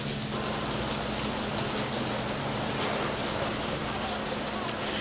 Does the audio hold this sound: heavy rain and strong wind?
yes